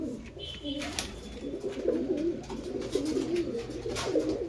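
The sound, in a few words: cooing of a Kalchina pigeon pair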